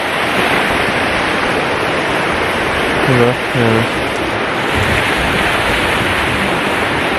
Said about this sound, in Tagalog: Ano na yung tubig oh, rinig na rinig mo.